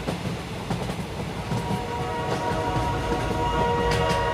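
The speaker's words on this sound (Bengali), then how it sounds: "ওই যে একটা ট্রেন আসছে," A passenger train rolls along the rails with a continuous rumbling clatter that builds in loudness toward the end, with faint tonal squeals from the wheels.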